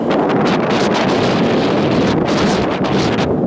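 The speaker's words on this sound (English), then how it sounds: "And it's so windy here" Loud, steady winter wind roars and buffets against the microphone in snowy weather in Saint Petersburg, a constant rushing blast with no other sounds coming through.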